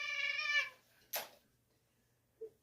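A cat gives one clear, drawn-out meow, followed by a sharp knock and a faint short sound in near silence.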